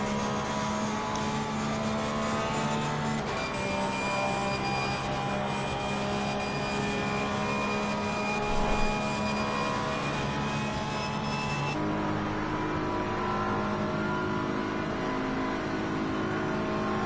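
Racing car engine screaming down the straight at Paul Ricard in a PS5 racing game, a sustained high-revving drone with a shift in pitch partway through, loud and continuous without talk.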